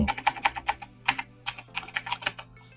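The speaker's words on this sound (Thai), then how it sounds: "ผมจะพิมพ์ว่าทดลอง" Key taps on a Galaxy Tab S6 keyboard while entering text in PowerPoint come in quick bursts of about a dozen close, crisp clicks with brief pauses between them, and no voices.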